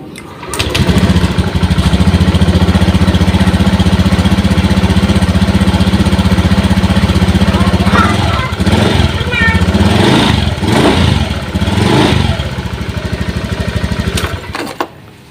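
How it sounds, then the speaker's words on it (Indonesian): A Honda Scoopy scooter's engine starts and runs loudly up close, with a steady rapid idle putter that shifts and revs unevenly partway through before cutting off near the end. "Setelah diganti sikring motor hidup."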